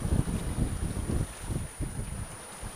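Steady wind noise rushes across a sailboat at sea off the east coast of Sardinia, blowing at around 13 knots, with a constant low buffeting roar and no voices.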